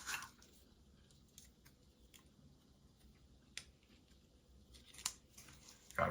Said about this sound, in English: I got my bare metal foil here and my razor blade, and we'll get this trimmed here